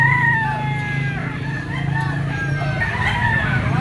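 Stag rooster crowing at the Lipa poultry auction market, two drawn-out crows among other fowl clucking, with a busy market murmur underneath.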